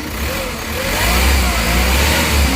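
The diesel engine of a Hyundai H100 revs loud and close, a steady rumbling drone that rises and holds with no talk over it.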